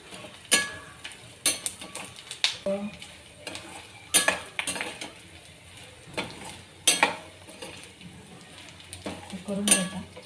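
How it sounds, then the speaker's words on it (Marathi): Gum (dinka) frying in ghee in a pan until it puffs up, a soft bubbling sizzle beneath repeated sharp clinks and scrapes of a metal spoon stirring against the pan. "छान असा डिंक फुलेपर्यंत या तुपामध्ये तळून घ्यायचा आहे"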